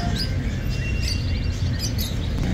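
A caged canary trills and chirps in bright, repeated bursts at a busy outdoor bird and animal market in Baghdad, partly masked by loud, constant crowd and street noise.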